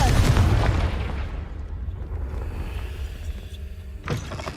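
The Confringo blasting spell in Hogwarts Legacy goes off as a loud, rumbling explosion that slowly fades, followed near the end by a brief sharp whoosh or burst.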